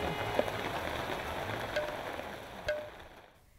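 Monsoon rain pours steadily over flooded, waterlogged ground in Gorakhpur, a dense, even hiss with a few sharper drip ticks near the end.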